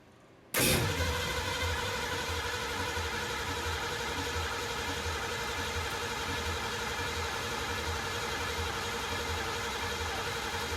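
A Ford Mustang engine starts for the first time after distributor work, catching abruptly with a loud burst and settling into a steady, rough idle that runs on for about ten seconds.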